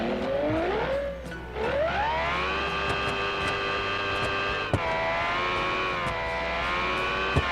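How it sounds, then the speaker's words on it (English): A video game road car engine screams at high revs, pitch climbing and holding with a brief dip, loud and sustained with no talking. "That is very high revving for a road car."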